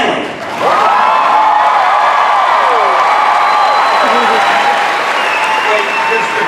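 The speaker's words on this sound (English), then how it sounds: "let's have one more big round of applause for our winner, Stanley." A large crowd at a Disney D23 Expo 2015 presentation bursts into loud, sustained applause and cheering for a winner, dense clapping with whoops and shouts holding steady at full volume throughout.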